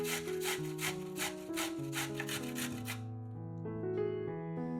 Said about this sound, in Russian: Одну морковь трем на крупной терке